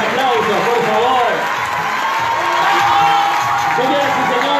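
Dense, continuous applause from a large crowd at a political campaign launch for a council candidate, with cheering and whoops mixed in, loud and sustained throughout.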